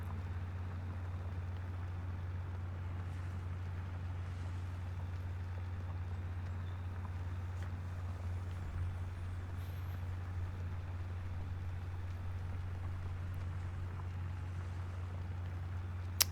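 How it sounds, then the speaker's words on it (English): Tractor engine running in Farming Simulator 25, a steady low droning rumble holding evenly throughout with faint light ambient noise above it. "it is nice to be able to utilize the tractor here"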